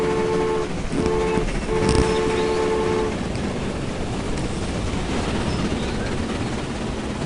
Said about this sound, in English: Luckily we've got a lot of trains coming.